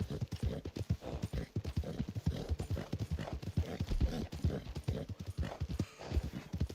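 Horse hooves clip-clop in Red Dead Online, a quick, steady rhythm of close, crisp hoof strikes sounding continuously on their own without speech.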